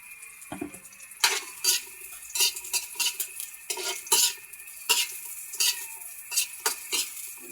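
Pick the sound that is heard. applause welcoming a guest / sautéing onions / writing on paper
sautéing onions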